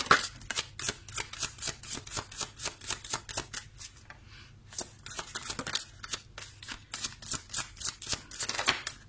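Tarot cards being shuffled by hand, a rapid series of crisp riffling flicks in bursts with a short pause in the middle, close and clear with no talk over it.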